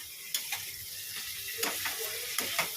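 Spiced masala for fish head curry made with Kashmiri chilli powder and ground green chilli sizzles in a pan as a spoon scrapes and stirs it in short, repeated strokes, close and fairly quiet.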